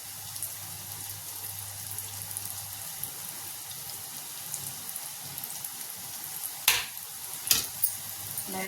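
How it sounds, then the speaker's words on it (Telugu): Gulab jamun dough balls frying in oil over a medium flame give a soft, steady sizzle throughout, with a couple of sharp utensil clinks near the end. "ఇలా ఇలా రౌండ్ తిప్పుకుంటే మొత్తానికి ఉండ ఫ్రై అవుతుంది"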